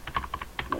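Keystrokes on a computer keyboard sound in a quick run of about eight crisp clicks, close and fairly clear.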